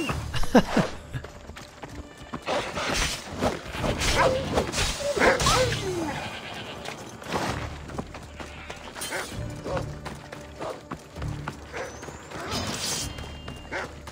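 Rapid galloping hoofbeats of a horse in Assassin's Creed Odyssey run under game music and effects, with voices speaking over parts of it.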